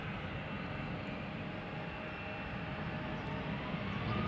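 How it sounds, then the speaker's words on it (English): KLM Boeing 737-700 at Schiphol warming up its engines before departure, a steady jet rumble and hiss holding constant, swelling slightly toward the end. "It's a 737-700 KLM flight 1443."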